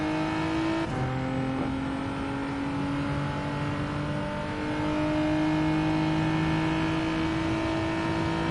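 A racing car engine in a video game drops through a double downshift with a sharp blip near the start, then revs and pulls steadily in a loud, sustained whine with smooth rising tones, no speech over it.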